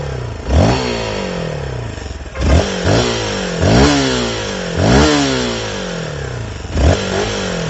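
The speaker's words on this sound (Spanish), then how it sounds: "Vamos a mostrar como suena el Honda" A fuel-injected Honda XR150L motorcycle engine is blipped repeatedly from idle, five or six sharp revs rising and falling in quick succession, close and loud, with no speech.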